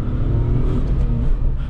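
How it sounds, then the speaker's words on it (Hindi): A petrol-engine car revs hard at high RPM in first gear, a dense, steady, close engine roar with a deep rumble and no speech. "तो अब मैं हाई आरपीएम पे जो है पेट्रोल इंजन को चला के देखता हूँ।"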